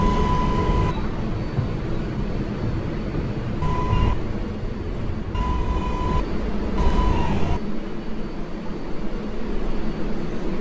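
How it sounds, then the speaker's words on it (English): An NYC subway R142A train runs on the 4 express line, a steady loud rumble of wheels and motors with a chime-like tone recurring at intervals and the roar easing near the end. "This is a Manhattan-bound 4 express train."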